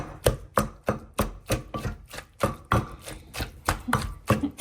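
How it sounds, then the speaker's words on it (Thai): Mushrooms pounded in a mortar give a steady run of about a dozen sharp, close thuds at a quick, even rhythm. "เดี๋ยวก็ตำเห็ดนิดนึงนะคะ"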